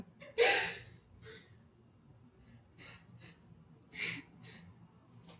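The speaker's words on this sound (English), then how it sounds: "I don't need you heavy breathing in the background." Heavy, raspy breaths close to the mic, with sharp gasping inhales spaced irregularly over a quiet background.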